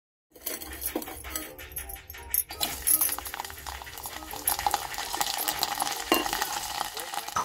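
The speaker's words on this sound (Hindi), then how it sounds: "इसमें हम डालेंगे लहसुन जो कि हमने छील के रखे हैं।" Peeled garlic cloves go into hot mustard oil in a pan, starting a steady, fairly loud sizzle after a few soft clatters, with the frying building and holding bright and close.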